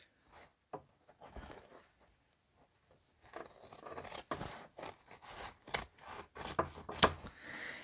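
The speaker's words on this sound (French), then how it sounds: "Donc on coupe les coins avec un ciseau" Scissors cut the fabric corners of a handbag, starting after a few quiet seconds with soft handling, then a quick series of close, crisp snips and rustles.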